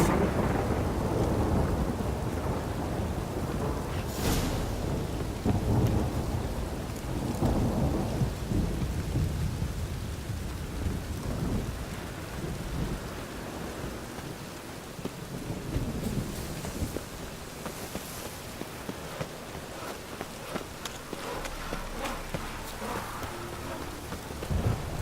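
Steady rainfall with rolling thunder in The Witcher 3 video game, a continuous wash of rain under a loud thunder rumble that swells and fades, with no voices.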